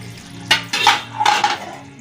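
Metal lid set down on a frying pan of ridge gourd and potato, a few sharp clanks and scrapes of cookware in quick succession, close and clear.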